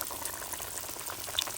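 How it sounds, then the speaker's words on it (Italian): Pieces of seafood fry in hot oil for a holiday seafood appetizer, giving a steady, dense sizzle and crackle with a few sharper pops, heard alone at moderate loudness. "Ah, ma il momento del fritto. Sentite un po'?"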